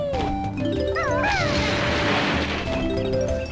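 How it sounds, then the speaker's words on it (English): A loud smashing crash in Banjo-Kazooie as a bird's head shatters a small house, the breaking burst spreading through the middle of a busy game music bed with swooping tonal effects. "we can shatter things with a bird's head. Just broke the poor guy's house."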